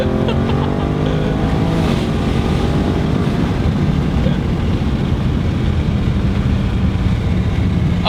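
An all-wheel-drive Audi RS7 launches hard from a standstill, engine note climbing through rising gear tones into a sustained loud roar, with voices talking over it.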